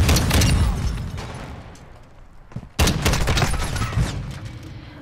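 Rapid bursts of automatic gunfire from the video game Call of Duty: Modern Warfare crackle loudly, with a brief lull midway before another heavy volley resumes.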